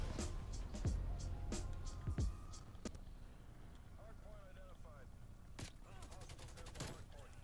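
MP5 submachine gun fire in Black Ops Cold War, with quick bursts and scattered shots throughout, loudest early on, mixed with other battle noise and occasional talking.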